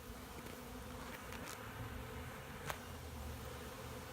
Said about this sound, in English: It's actually a much larger group of bees.